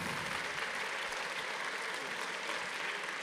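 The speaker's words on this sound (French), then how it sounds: "Oui, on peut l'applaudir, c'est important." An audience applauds at an Olympism day event, a dense, even wash of clapping heard at a distance and fairly quiet, holding steady from start to finish without pauses.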